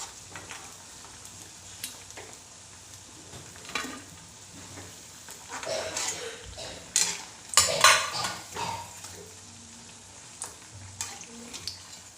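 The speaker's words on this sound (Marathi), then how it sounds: "हे बघा कसे मस्त वडे तळून तयार झाले आपले" Batata vada deep frying in oil makes a soft, steady sizzle. Scattered metal utensil clinks and scrapes are loudest near the middle, and no one talks.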